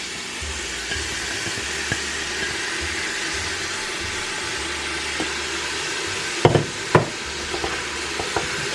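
Leeks frying in a soup pot, a steady broad hiss of sizzling throughout, with a few clacks of stirring toward the end.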